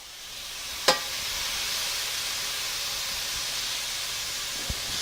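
Sun-dried tomatoes cooking down in a pan, a soft continuous sizzle and hiss with a single sharp clink near the start.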